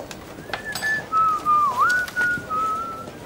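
A person whistles a slow piano piece by Erik Satie, a clear, close melodic whistle of sustained notes with gentle pitch slides, starting softly and growing more distinct over about three seconds.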